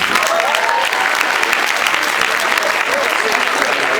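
A student audience at a campus comedy show claps loudly and steadily, a dense, even roar of hands kept up throughout.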